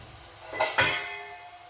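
A spoon stirs a calcium-rich ingredient into a gammon and leek tagliatelle sauce in a pan, two quick close metallic clinks and scrapes against the pan, then quiet.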